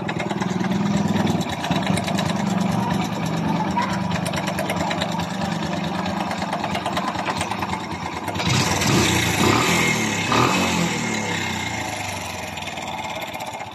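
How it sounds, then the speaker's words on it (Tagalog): A Kawasaki Bajaj CT 100 motorcycle engine idles steadily and close by, with a metallic timing chain rattle layered over the low rumble and a brief rev near the end. "pakinggan nyo kung anong tunog meron ang kanyang makina"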